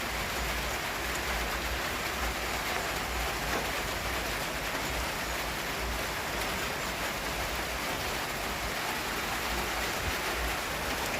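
Heavy rain pours steadily over a cemetery at night, a dense, even hiss with no letup and no voices.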